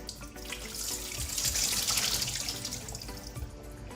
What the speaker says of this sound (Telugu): సో దీన్ని వాటర్లో అన్ని వాటర్ మొత్తం తీసేస్తాం